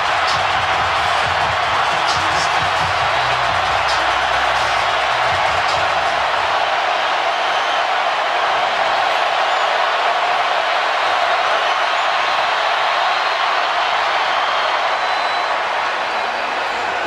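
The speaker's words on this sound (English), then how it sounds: "Let the crowd take you home." A stadium crowd at a Tennessee vs Appalachian State football game in overtime roars in a loud, continuous wall of cheering that holds steady without letup.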